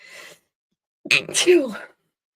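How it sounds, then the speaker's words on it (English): A brief sneeze bursts out after a short breathy sound and a pause, close and fairly quiet. "Having a little sneezing attack here."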